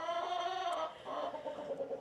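Chickens cluck in a straw-bedded barn, soft and close, with an occasional higher call breaking the steady murmuring.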